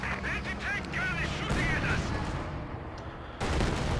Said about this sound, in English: Anti-tank gun is in fact shooting at you, my friends